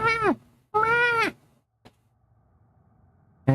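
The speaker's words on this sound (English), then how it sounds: "he meows and shakes his head at the same time" A pet cat meows twice in quick succession, close and clear, each call rising then falling, followed by quiet with a faint click.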